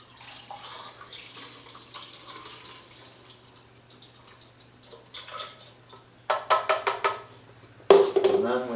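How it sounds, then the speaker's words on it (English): Film developer liquid is poured into a developing tank for 120 film, a couple of short splashy pours with trickling liquid, fairly close and moderately loud over a quiet room hum. "We're going to pour out 600 milliliters of the developer"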